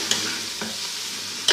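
Cabbage in a pan of fried ghee and spice masala, a low steady sizzle with a few brief scraping stirs.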